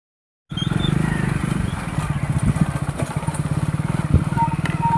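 A motorcycle rides down the hill road from Semmalai Murugan temple near Chengalpattu, its engine putting out a steady, close, pulsing drone that stays loud for the whole stretch after a brief silent start.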